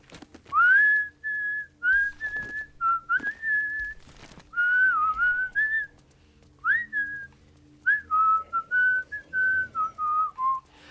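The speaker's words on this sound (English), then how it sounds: "I don't know if my microphone is picking up the whistling properly or not." A streamer whistles a wandering melody into a microphone during a Baldur's Gate 3 tabletop-style session, clear close phrases broken by short pauses and a few clicks, with no talking.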